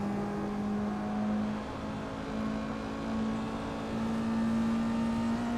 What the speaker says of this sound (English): car rotates nicely into the apex, and then I gradually get back on the accelerator.